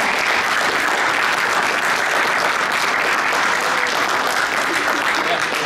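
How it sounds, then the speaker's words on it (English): Sustained audience applause after a presentation sponsored by a school FCA group, a loud, even wash of many hands clapping for several seconds, close and continuous with no talking on top. "let's give him a huge round of applause"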